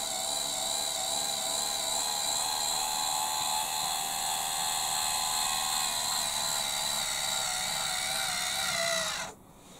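Electric motor of a Bruder RC low loader raising its automatic ramps, a steady high-pitched whine running nearly ten seconds before cutting off abruptly at the top position.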